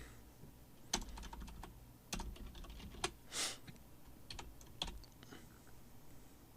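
Keystrokes on a computer keyboard come as a handful of distinct, fairly close clicks spaced a second or so apart, with one brief soft hiss midway through; nobody speaks.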